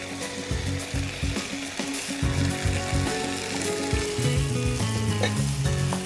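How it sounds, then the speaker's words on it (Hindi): Blanched vegetables tipped into a bubbling korma gravy, a loud close sizzle with repeated clinks and stirring scrapes of a utensil against the pan, continuous for several seconds with no speech. "इसमें मैं डालती हूँ ये सारे ब्लांच करे हुए वेजिटेबल्स"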